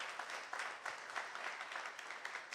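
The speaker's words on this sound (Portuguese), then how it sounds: "Você pode aplaudir o nome do Senhor?" A congregation claps during a Sunday church service, a brief, faint, steady patter of many hands heard from a distance.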